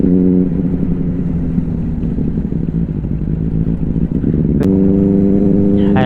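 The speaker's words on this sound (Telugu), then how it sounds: "Harley Davidson motor cycles from America." Harley-Davidson motorcycles from America riding in a group, their engines droning loud and steady close by throughout, with a sharp rise in revs near the end.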